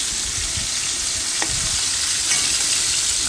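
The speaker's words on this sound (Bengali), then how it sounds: "এই দেখো, এখানে আমি করলাটা ভাজছি" Constant close sizzle of bitter gourd frying in hot oil in a pan, with a faint scrape of stirring partway through, no voices.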